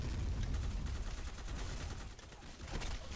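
Sustained gunfire from Black Squad's PvE mode, rapid overlapping shots fired at a box, forming a dense continuous fusillade with a brief dip before resuming, no speech.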